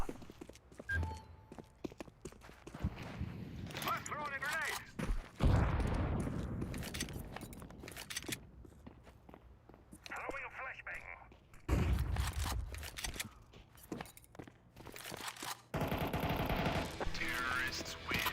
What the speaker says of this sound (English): It's just the firing range.